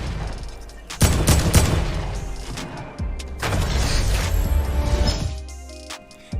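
Gunfire in Fortnite Battle Royale comes as loud rapid bursts of shots and booming impacts in two long volleys, separated by a brief lull, with heavy low rumble throughout.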